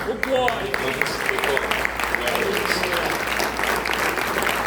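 Sustained applause from a church congregation fills the space, dense and steady, with a voice speaking briefly at the start.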